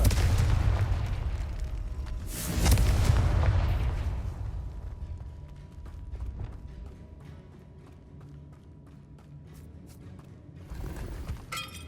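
Confringo blasting spell from Hogwarts Legacy, a loud fiery explosion with a heavy boom, followed by a second burst and lingering rumbling debris and crackles that fade under quieter game ambience.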